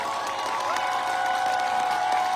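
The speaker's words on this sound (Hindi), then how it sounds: "जोरदार तालियां बजाते रहे और बजाते रहे" An audience at a large hall gathering applauds in a dense, continuous wash of clapping. It stays steady and fairly loud, with no voices breaking through.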